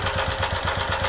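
A small generator engine running on HHO hydrogen fuel, a loud, steady close-up drone with a rapid rhythmic pulsing throb, heard alone.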